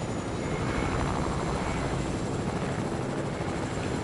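A helicopter flies in a PS4 video game, giving a steady, broadband rotor-and-engine roar that stays even and continuous throughout, moderately quiet with no talk over it.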